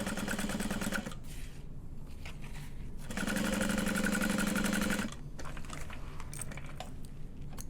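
Sewing machine stitches a zipper onto a handbag in rapid mechanical bursts, running hard for about a second, pausing, then running again for two seconds, close and loud with no talking.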